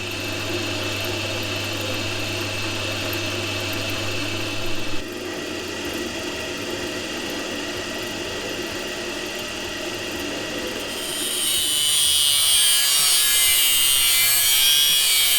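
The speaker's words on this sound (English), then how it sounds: "So let's go and turn them down on the lathe" A metal lathe turns down oversized steel bolts during a rally car rebuild, giving a steady loud machining whine and hum that shifts pitch partway through and ends in a brighter, harsher cutting hiss.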